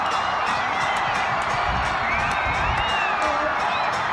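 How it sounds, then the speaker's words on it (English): A stadium crowd at a Bhutan versus Sri Lanka World Cup qualifier football match, a loud continuous roar with whistles and shouts during a free kick, constant throughout. "The crowd anxiously waiting for how the free kick would turn out."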